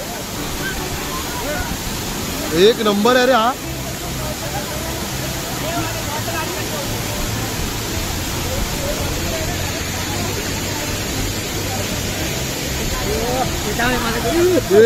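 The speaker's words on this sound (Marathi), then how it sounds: "निसर्गाचं खरं सौंदर्य काय तर सावडा धबधबा" Savda waterfall roars as a steady broad rush of falling water outdoors, with people chatting and calling out over it.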